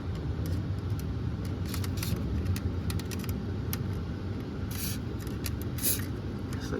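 Short hissing spritzes from a spray can aimed at the oil filter during an oil change on a 1994 Amigo, a couple of brief bursts over steady low background rumble, with no talking.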